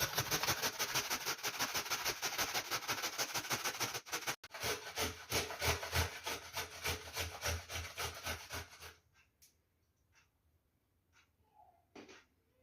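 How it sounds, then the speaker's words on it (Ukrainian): A carrot rubbed against a hand grater for an outdoor cauldron dish cooked over a campfire, producing fast, rhythmic rasping strokes that run steadily for several seconds, then stop, leaving only faint scattered sounds. "беремо цю тертушку, беремо морковку і шмалимо так раз"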